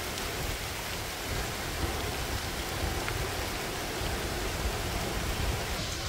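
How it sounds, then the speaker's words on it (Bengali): Steady rain falls during a seaside net-fishing outing, heard from beneath a tree: a dense, even hiss with no pauses and no voices. "বৃষ্টি হচ্ছে আর এই যে আমি এসে গাছতলা দাঁড়িয়েছি"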